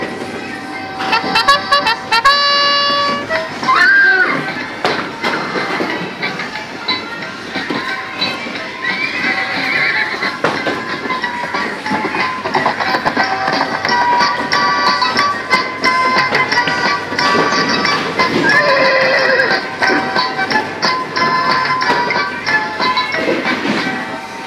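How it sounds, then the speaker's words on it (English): A refurbished Falgas horse kiddie ride on Skegness Pier plays loud electronic horse sounds, with whinnies, clip-clopping hooves and tinny tones over busy seaside ambience, continuing for about twenty seconds. "And that was a horse kiddie ride by Falgas, refurbished by Amutec, sited at Skegness Pier in Skegness."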